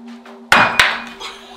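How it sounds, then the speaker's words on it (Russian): A cross falls down during a Pique Dame summoning in a room under renovation, giving two sharp, loud impacts in quick succession, a wooden clatter with metallic ring, over a steady low hum. "Вот сейчас крест упал."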